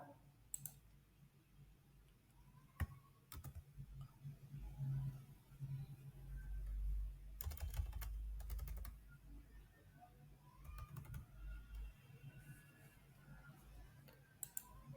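Quiet keyboard typing and mouse clicks as words are entered into a Windows search bar, with scattered taps and a few louder clicks against faint low background hum.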